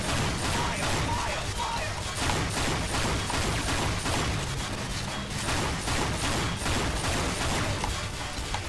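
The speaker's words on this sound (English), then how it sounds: "I only load 2 shells, but I fire 6 shots" A shotgun in Team Fortress 2 fires in rapid, loud, closely spaced blasts that run continuously through the whole stretch, mixed with other game battle noise.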